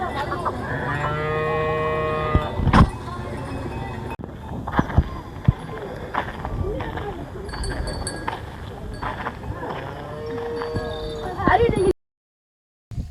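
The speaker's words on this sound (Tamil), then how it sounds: "மாடு கழுவி முடிச்சாச்சு." Cattle freshly washed for Mattu Pongal low out in a couple of drawn-out moos, one near the start and another later, with clinks, shuffling and people chatting around them.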